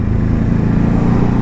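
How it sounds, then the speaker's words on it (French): A Ducati 950 Hypermotard engine drones close and loud in a steady, throbbing note, with no break over the short stretch. "Elle a vraiment une belle sonorisation cette hyper moto et elle bondit"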